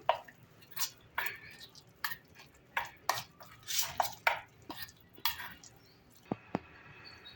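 A spoon stirs a hot spice tempering into cooked dal in a pot, giving irregular scraping knocks and soft wet clinks spread across several seconds, close by.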